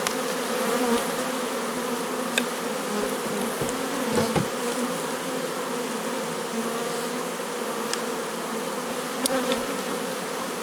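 Honey bees swarm around open hive frames while a Miniplus colony division is moved into a Dadant 10-frame hive, making a dense, steady buzz close by with occasional louder passes.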